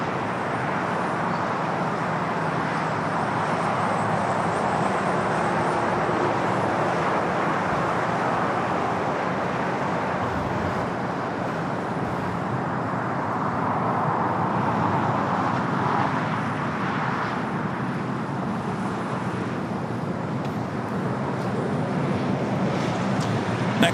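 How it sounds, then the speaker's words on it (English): An airliner taking off from LAX roars steadily through the whole stretch, a broad continuous rumble with wind-like hiss rising and falling slightly, heard from a distance with no voices. "Next takeoff is flight to Puerto"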